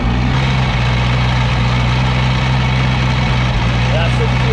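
A V8 ski boat engine idles while running on a hose, giving a steady, close, low mechanical drone with a constant throb and no change in pace.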